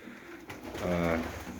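Budapest pigeons coo softly in a loft, a low murmuring call rising in the middle of the stretch over steady background hum.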